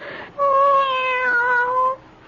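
A cat gives one drawn-out, clearly pitched meow, loud and close, after a brief softer sound at the start; no purring is evident.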